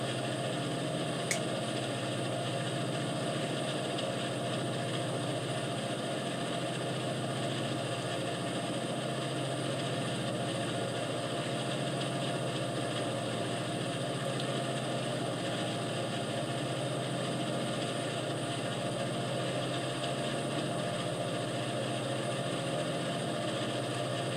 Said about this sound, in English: sounds like the traction motor's complaining